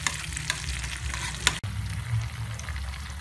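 Fried garlic being stirred into chili sauce in a pan: a steady, close sizzle with light scraping strokes and one sharp clack of a utensil near the middle.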